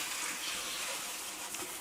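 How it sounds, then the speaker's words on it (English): A water tap runs steadily at room temperature to rinse a lucky bamboo plant, a continuous close hiss of gushing water with no talk over it. "So what I do is obviously turn the water on."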